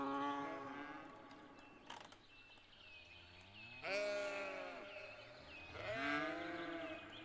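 Goats bleat outdoors, with several drawn-out, wavering calls spaced a couple of seconds apart at moderate distance, over a quiet, steady background.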